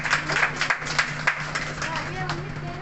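A meeting audience claps in scattered, uneven bursts, with voices talking over it and a low steady hum underneath.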